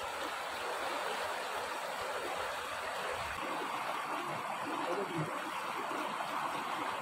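Water of the Balsan river stream flows in a steady, continuous broadband rush, fairly close and unbroken throughout, with no talking.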